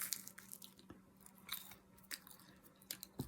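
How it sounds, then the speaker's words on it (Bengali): Someone eats burnt homemade pie, with soft crunchy bites and chewing clicks repeating close by at an uneven pace, quiet and with no talking. "খাচ্ছি বার্ন পাই।"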